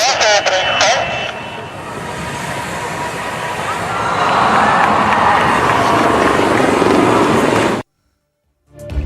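Indian Air Force ALH MKI helicopters fly in formation during an air show parade over the Chennai Marina. A loud, steady rotor roar mixes with crowd noise and an announcer's voice, then cuts to silence near the end.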